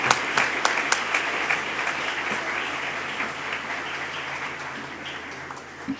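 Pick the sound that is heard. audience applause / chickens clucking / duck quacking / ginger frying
audience applause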